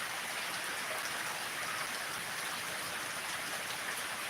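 Rain falls steadily in a dense, even hiss of drops on surfaces, unbroken and fairly close, with no talking.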